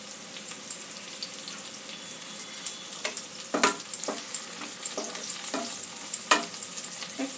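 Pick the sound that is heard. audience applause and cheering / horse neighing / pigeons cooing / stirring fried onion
stirring fried onion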